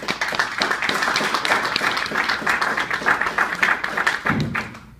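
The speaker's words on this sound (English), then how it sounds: "I think he deserves a round of applause" A press conference crowd applauds with dense, steady clapping that fades away near the end.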